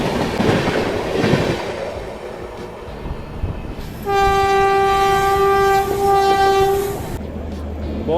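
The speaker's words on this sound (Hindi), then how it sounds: "ये जा रही है अपनी शताब्दी एक्सप्रेस।" A Shatabdi Express passenger train rolls past on Indian rails, wheels rumbling and clattering while a loud, sustained multi-tone horn blares for about three seconds, heard up close with faint background noise.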